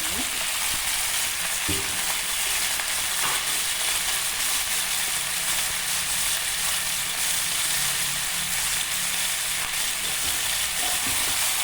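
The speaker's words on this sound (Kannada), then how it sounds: "ಹಾಕ್ಕೊಂಡೊಂದು ಐದು ಐದಾರು ನಿಮಿಷ ಚೆನ್ನಾಗಿ ಬಾಡಿಸ್ಕೊಳ್ಳೋಣ ನೀರೆಲ್ಲ ಸ್ವಲ್ಪ ತೀರ್ಕೊಳ್ಳೋಣ" Chicken pieces for chicken chops sauté in a pan over a medium flame, giving a constant, even sizzle and hiss of frying. The sound stays steady throughout, with faint stirring clunks now and then.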